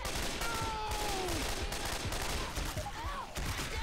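Gunfire in the Left 4 Dead 2 video game, a dense continuous clatter of shots filling the whole stretch at a fairly loud level amid chaotic game sounds.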